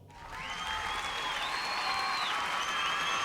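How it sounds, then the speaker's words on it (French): Recorded crowd applause played back over a sound system at the end of a song in an empty hall, a soft steady wash of clapping that swells in and holds, with a faint whistling tone above it. "grâce aux avancées technologiques, nous pouvons, à notre guise, avoir plein d'applaudissements à la fin de nos chansons"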